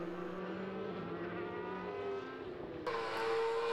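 A Formula 3 race car at Mondello circuit runs wide over the curbs, its engine a steady, close, droning whine that shifts pitch and grows louder near the end.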